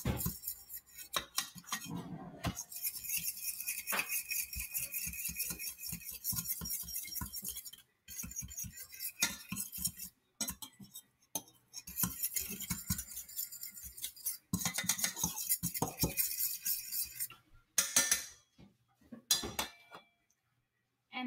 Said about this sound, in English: I tend to be used to stirring it with a fork